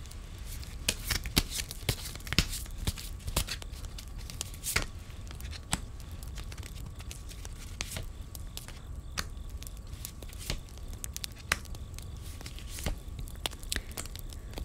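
Tarot cards being shuffled close up, a steady run of soft riffling and flicking card snaps with occasional sharper slaps, no voices.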